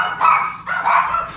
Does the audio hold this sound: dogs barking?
yes